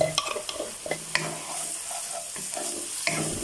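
Garlic sizzles and fries in a pan while a utensil scrapes and stirs in quick irregular strokes, close up, with no talking.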